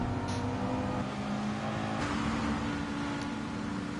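A race car engine in a GT touring car racing video game accelerates down the start-finish straight, a loud, sustained rising whine with a gear shift midway and a faint background of other cars.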